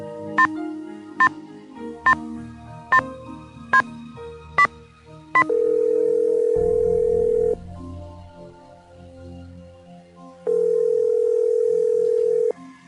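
Telephone audio from the Nancy Drew game Stay Tuned for Danger: about seven sharp keypad dialing tones at a steady rhythm, then a loud continuous steady tone for two seconds, a quieter stretch, and the same steady tone again.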